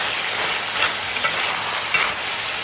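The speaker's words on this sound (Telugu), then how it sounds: "కట్ చేసుకున్న ఆనియన్స్ అయితే వేసేసి మళ్ళీ ఫ్రై చేయాలి" Beans and onions frying in a pan, a steady close hiss of sizzling oil with a few faint stirring clinks, no voices.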